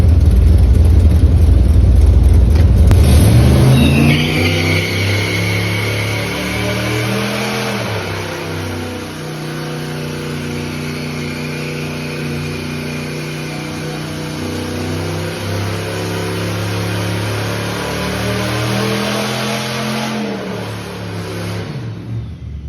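Car doing tire burnouts inside a warehouse, a stock-boost engine roaring loud and sustained at high revs for about twenty seconds, pitch stepping up and down as the throttle is worked, with no talk.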